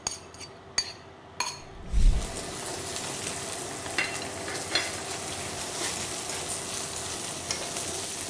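Batter-coated pork ribs frying in hot oil: a few clinks and a dull knock at first, then a dense, continuous sizzling crackle that stays steady and close throughout.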